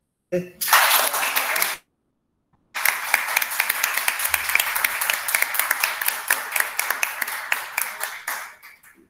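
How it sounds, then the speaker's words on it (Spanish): An audience at a conversation event claps hard in a short burst. After a brief silence the applause comes back as sustained, dense clapping from a small group that slowly tapers off. "vamos a mandar un aplauso"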